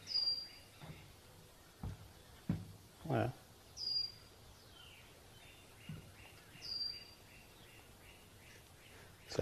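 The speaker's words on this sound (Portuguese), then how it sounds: "Olha o passarinho." Small birds chirp outdoors near an open house veranda, with several brief high calls spread through the clip under a person talking and some handling thumps.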